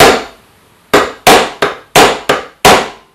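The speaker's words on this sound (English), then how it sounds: "use this M6 bolt so I can actually use that as a hammer to tap on the" Repeated metal taps of an M6 bolt used as a hammer on a stuck shaft while removing the RA axis gear of an NEQ6 telescope mount, seven sharp, loud, close knocks at irregular intervals with short ringing decay.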